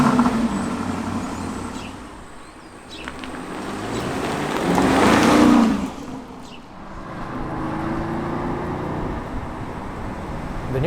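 A 2020 BMW X6 M50i SUV with a twin-turbo V8 on the road, a steady engine and road drone that swells into a stronger surge midway, then settles back to an even cruise.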